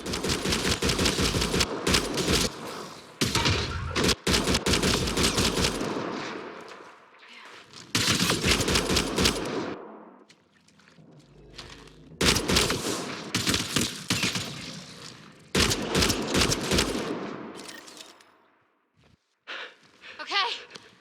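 Bursts of gunfire in the video game Mass Effect Andromeda, loud rapid volleys in several clusters with short pauses between, mixed with game effects.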